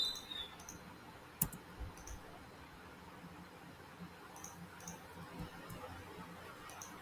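A computer mouse clicks sparsely and faintly while someone works in Revit modelling beam reinforcement, with a few isolated clicks over a quiet background hiss.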